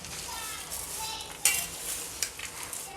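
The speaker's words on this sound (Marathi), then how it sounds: "आता दोन्ही याला एकत्र चांगल्याने मिक्स करून घेऊ आपण." Potato chivda mixture tossed with powdered sugar for a fasting snack, giving a dry rustling scrape with a few sharp clinks of spoon on the pan, close and steady, no talking.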